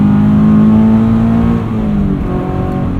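A Subaru BRZ on Continental tires pulling away on a wet road, its engine a loud, steady drone close by that shifts and eases slightly partway through, heard alone with no talk.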